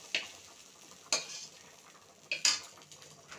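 Three sharp scraping clacks of a spatula stirring bottle gourd in a wok after prawns were fried in it, spaced about a second apart over a faint background, with no talking.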